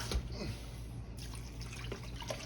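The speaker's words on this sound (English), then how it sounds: "Now I'm going to fill this up all the way with water till it covers the pork." Tap water pours steadily into a cooking pot of red beans and pork, a continuous splashing rush with a few louder drips and knocks.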